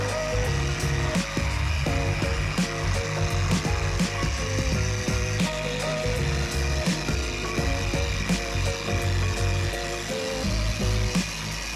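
A DA sander grinds on car body metal of a Honda Civic with a steady motor whir and rapid, rattling, stuttering scrapes repeating over and over.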